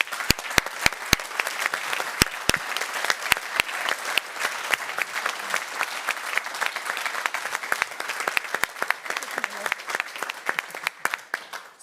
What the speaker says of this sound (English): a big applause for Jung von Matt